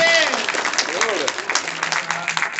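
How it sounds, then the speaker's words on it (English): Audience applause at an open mic comedy show, a dense steady patter of clapping lasting throughout, with an announcer's voice talking over it. "Thank you for the standing ovation."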